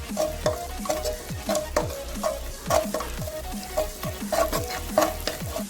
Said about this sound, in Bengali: এরপর দিয়ে দিচ্ছি কুচানো কাঁচা লঙ্কা আর কিছুটা গ্রেড করা আদা। এগুলো খুব ভালো মতো করে ভেজে নিচ্ছি।